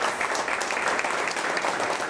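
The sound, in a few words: applause in church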